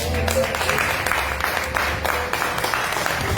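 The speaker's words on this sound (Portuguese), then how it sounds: "Vamos dar uma salva de palmas para as mulheres?" A congregation at a Brazilian church service applauds the women, a steady wash of clapping that stays loud and dense throughout, with some voices mixed in.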